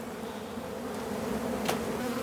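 Honey bees buzzing around a hive, a dense steady hum with one brief nearer buzz passing close.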